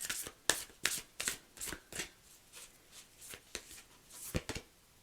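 Tarot cards being shuffled by hand, a run of crisp riffling bursts and soft slaps repeating at an irregular pace, close and fairly quiet, with no talking.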